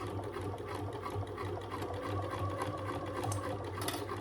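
A sewing machine stitches steadily through many thick layers of a fold-over wallet, a close, even mechanical whirr with a regular rhythm running throughout.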